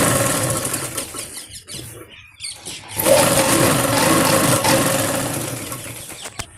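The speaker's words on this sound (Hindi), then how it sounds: "ऐसे खींचने के बाद हम इसमें बीच में इलास्टिक के ऊपर एक सिलाई लगा देंगे" A sewing machine motor whirs as it stitches over the elastic waistband of a small girl's palazzo. It runs in short bursts with a brief pause, then settles into a longer, steady, close run.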